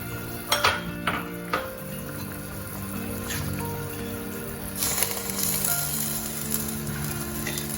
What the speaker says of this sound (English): Now we are going to add our peas.